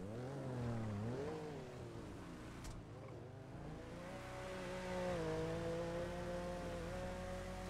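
Car engine revving in the video game Watch Dogs: Legion, a quiet, rising and falling engine tone that climbs, dips and climbs again through gear changes, continuous with no voices.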